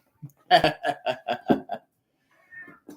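A person imitates a cat, voicing a quick run of six or so meow sounds in a row, then a faint murmur follows.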